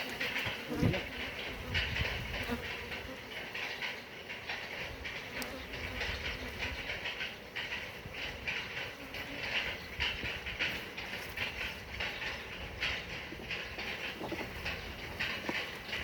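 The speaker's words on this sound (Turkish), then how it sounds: "eşek arısı geliyor" A steady hornet buzz hums throughout at a beehive, close and continuous, over a rumbling outdoor background.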